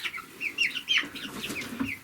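Several chickens, eleven hens and a rooster, clucking and chattering close by in quick, uneven bursts, with no voices.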